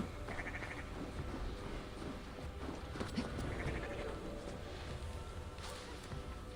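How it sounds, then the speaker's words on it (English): Goat bleating in the video game Assassin's Creed Valhalla, a few nasal bleats over busy ambient game sound of a rural English setting, moderately close. "Here a goat."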